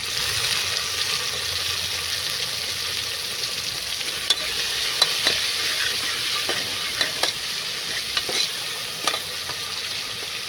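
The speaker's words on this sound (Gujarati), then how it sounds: "તો લસણ, આદુ, લીલા મરચાં સરસ સંતળાઈ ગયું છે. હવે આપણે ટામેટા ઉમેરીશું." Tomatoes fry with garlic, ginger and green chillies in a pan, a steady close sizzle punctuated by several sharp clicks and scrapes of a stirring spoon, with no voices.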